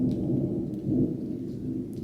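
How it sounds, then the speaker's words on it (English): Low thunder rolls through a dark storm with rain, a deep continuous rumble that swells twice, heard alone without talk. "It's storming here, which is why it's like so dark. It's like lightning and thundering"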